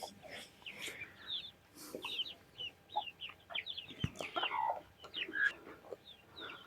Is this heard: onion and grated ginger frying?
no